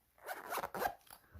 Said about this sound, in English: But the zipper is very nice.